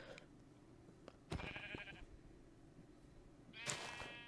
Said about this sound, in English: And then we'll go after some sheep as well.